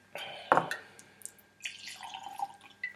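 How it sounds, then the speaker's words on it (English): Jack Daniel's No. 27 Gold whiskey is poured from the bottle into a glass, a short burst of splashing and glugging with a light clink, followed by softer trickling and dripping. "I'm gonna go ahead and pour some of this then."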